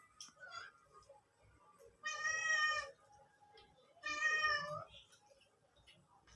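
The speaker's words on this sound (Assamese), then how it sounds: "আমাৰ মেকুৰীটোকো লাগে" A domestic cat gives two clear, drawn-out meows about two seconds apart, fairly close in a quiet room, with faint background sounds between them.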